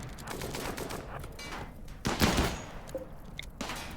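A turret opens fire in the RimWorld video game with rapid bursts of gunshots and clatter over a dense, noisy battle background.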